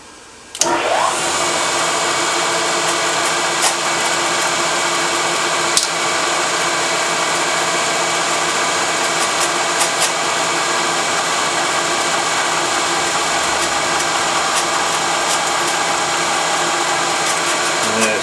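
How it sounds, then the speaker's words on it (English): A power drill boring 3/8-inch holes in metal starts abruptly and runs in a loud, steady high-pitched whine with faint grinding, continuous throughout and close by. "So I've set it up to drill some 3/8 holes, 3/8 of an inch apart."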